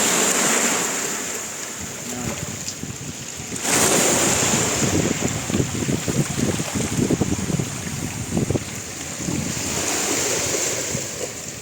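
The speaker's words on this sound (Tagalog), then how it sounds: "kumubli tayo dito kasi sobrang lakas ng hangin" Strong gusts roar across the microphone over the steady wash of surf breaking on a shore lined with boats, with low rumbling buffeting throughout.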